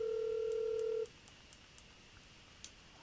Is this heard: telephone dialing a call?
yes